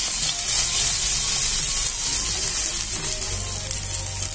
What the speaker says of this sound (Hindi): प्याज डालेंगे। अभी हम इसमें आलू डालेंगे।